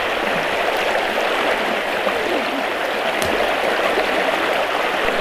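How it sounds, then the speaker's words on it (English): Fast-moving water in a small river in spring rushes continuously with a dense, steady roar and gurgle, loud and close throughout. "The water's moving fast."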